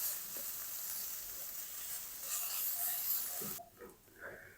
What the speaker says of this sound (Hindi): 1 मिनट तक लाल मिर्च को भी फ्राई कर लिया है इन सारी चीज़ों के साथ